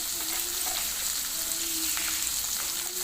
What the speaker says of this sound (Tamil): வெங்காயம் நல்லா வதங்கிடுச்சுங்க. அடுத்து நம்ம தக்காளியை போட போகிறோம்.